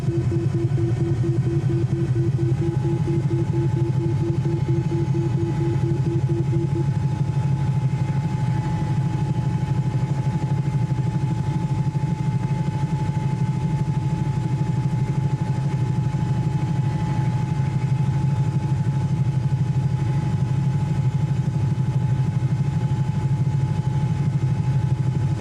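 Aircraft engines in Microsoft Flight Simulator 2020 drone steadily under gradually rising throttle, a continuous low rumble with a faint high whine running throughout at an even, moderate level and no voices.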